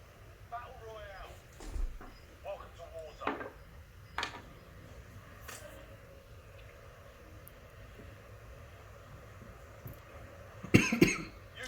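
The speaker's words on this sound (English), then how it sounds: "that first hit of the day always makes me cough a little" A man coughs a few times in short, separate bursts in a quiet room, with soft handling noises and a louder burst near the end.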